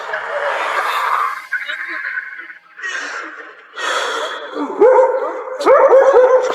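A dog barks and yelps in short bursts, growing more agitated toward the end, over wind and background noise, as a house catches fire.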